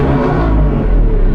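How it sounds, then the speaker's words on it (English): A naturally aspirated V12 engine fitted with a Gintani exhaust roars close and very loud, a dense, steady, rumbling howl that holds without pause. "I'm going to rev up my naturally aspirated V12 with a Gintani exhaust"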